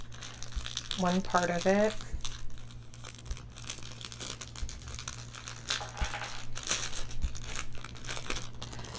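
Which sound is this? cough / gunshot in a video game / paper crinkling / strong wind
paper crinkling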